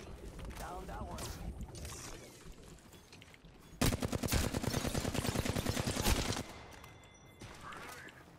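Automatic gunfire from an Apex Legends match bursts out as a dense, rapid string of shots lasting a couple of seconds, amid other game sounds and talk.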